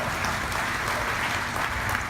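Sustained audience applause fills a keynote hall during a software demo, a dense, even wash of clapping that holds steady at moderate loudness throughout.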